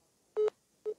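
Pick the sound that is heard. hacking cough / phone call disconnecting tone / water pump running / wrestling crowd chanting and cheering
phone call disconnecting tone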